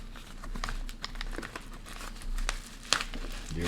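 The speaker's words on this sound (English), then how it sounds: "I take my card, or the customer's card, and I'm going to slide that into the envelope" A card slides into a paper envelope sealed with Scotch tape while first-class mail is prepared, giving soft, close papery rustles and small crinkles with one sharper tick near the end, and no talking.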